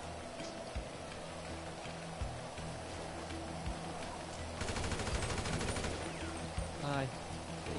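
Gunfire in a GTA game, a sustained rapid burst of automatic shots in the middle followed by a few scattered reports, all fairly distant beneath a constant noisy background hum.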